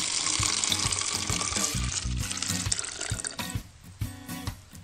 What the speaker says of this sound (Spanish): llenamos la botella de agua